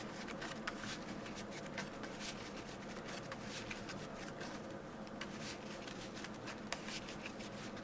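Playing cards shuffled over and over during a Cardfight Vanguard card game, a steady dense riffling patter with crisp flicks and snaps, close and fairly quiet, without any talk.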